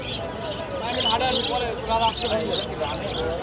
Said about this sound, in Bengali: এখানে অনেক ধরনের পাখি